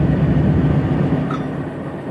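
A train and locomotive at Lahore railway station give a steady low rumble with a faint brief squeal, heard close and fairly loud without talk.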